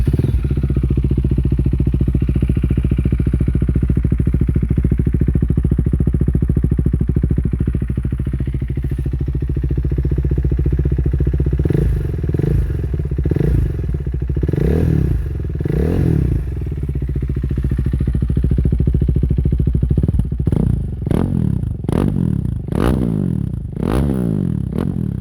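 A KTM 390 Duke single-cylinder motorcycle idles with a deep, steady, close thrum for several seconds. It then takes a series of sharp throttle blips, first spaced out and later in quick clusters, each rising and falling back to idle.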